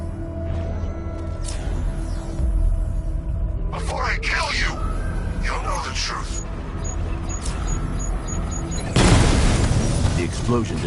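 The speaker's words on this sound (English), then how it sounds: "explosion disabled the main cannon" Booming blasts and crackling bursts erupt repeatedly amid mechanical game noise in Batman: Arkham Knight, with a big loud explosion near the end; a voice talks over much of it.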